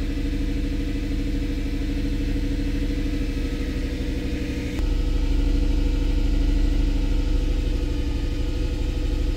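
A Mercedes E63 AMG with a misfire problem idles steadily at about 1500 RPM, a close, continuous low engine drone with a fine clattering pulse that thickens slightly partway through.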